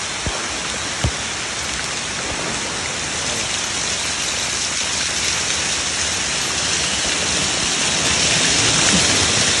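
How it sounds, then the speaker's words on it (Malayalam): Water rushes across a flooded stretch of the NH66 road in Randathani town, pouring from an overflowing drainage; a steady, broad, hissing wash runs on without pause, close and fairly loud. "വെള്ളം. ഇത് വരുന്നു"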